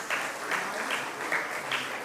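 Steady clapping from an Independence Day ceremony audience during an award presentation, a crowd round with a few prominent close hands beating in a loose regular rhythm, unbroken and without talk.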